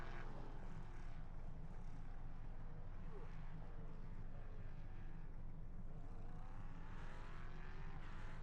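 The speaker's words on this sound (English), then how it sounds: "big airplane." A big airplane roars overhead near a motorsport circuit, a broad, steady rumble that holds loud for the whole stretch, with a faint pitch sweep as it passes.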